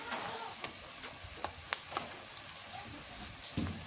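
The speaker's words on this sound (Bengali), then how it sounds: "পেঁয়াজ ভাজা হয়ে গেছে আদা বাটা দিয়ে দিই" Onions frying in a pan with ginger and garlic paste added for a beef curry, giving a steady close sizzle with occasional sharp crackles and pops.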